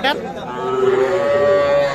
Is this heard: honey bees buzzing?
no